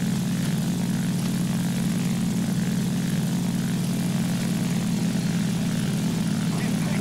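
A propeller plane engine drones steadily and evenly throughout a War Thunder squad battle, a constant low hum with faint background noise.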